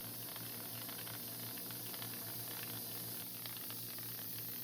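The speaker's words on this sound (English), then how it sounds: "As recommended in the manual, I used the 2-directional rotation, which means that the bowl stops itself and changes direction every so often." A magnetic pin tumbler bowl spins with liquid inside, giving a steady faint hiss and whir with a low motor hum, unchanging throughout.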